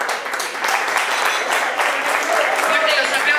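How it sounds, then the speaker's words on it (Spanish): An awards-ceremony audience claps steadily and densely throughout, a continuous moderately loud wash of many hands with a few voices mixed in. "Fuerte los aplausos para ellos entonces."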